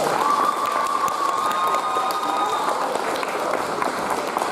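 An audience applauds young dancers at a school Christmas party, steady clapping filling the hall at close range, with faint crowd noise beneath.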